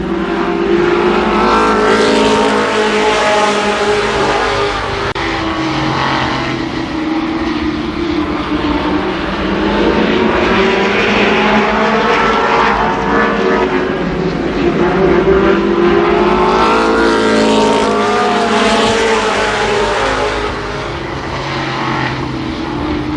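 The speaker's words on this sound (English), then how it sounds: "10 laps for the late model first heat race" Late model stock cars roaring around the oval at Columbus Motor Speedway in a 10-lap heat race, a loud continuous blend of engines that swells and fades as the pack passes, with faint crowd and announcer noise beneath.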